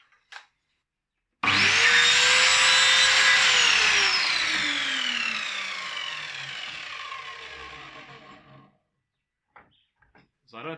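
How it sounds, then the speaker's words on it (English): A miter saw slices a PVC pipe in half for a DIY hydroponic system, one loud sustained whine of the blade that slowly drops in pitch as it spins down, with brief quiet knocks before and after. "So I don't think a miter saw was the best thing for that."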